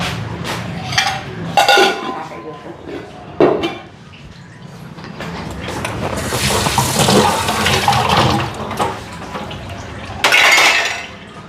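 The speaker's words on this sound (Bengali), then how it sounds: "এটা তো খালি জল দিয়ে একটু ধুয়ে থুই" Tap water rinses a milk saucepan in a home kitchen, running steadily with splashing and metallic clanks and scrapes of the pan, loud and close.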